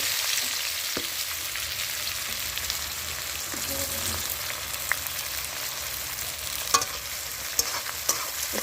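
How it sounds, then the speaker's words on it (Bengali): Chopped onions sizzle steadily in hot oil for chicken curry, a loud continuous frying hiss broken by occasional clinks and scrapes of stirring, with no talk. "দেখো পেঁয়াজগুলো তেলের ওপর দিলাম।"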